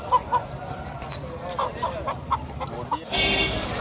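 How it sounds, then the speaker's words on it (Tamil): Native country chickens at a Sunday poultry market cluck in short, scattered bursts amid busy crowd noise, with a louder wash of market commotion toward the end. "இது பியூர் நாட்டு கோழி தான், பண்ண கோழிலாம் கிடையாதுல."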